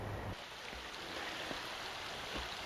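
South Creek, a small stream that once supplied a village with water, flows steadily with a soft, continuous broadband rush. The sound is close and unbroken across the short stretch, and no one speaks.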